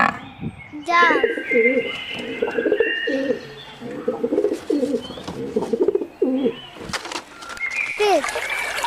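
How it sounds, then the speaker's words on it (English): A dove coos in a run of soft, repeated throaty phrases, with a few brighter bird chirps around it and brief voices at the start and end. "Dove."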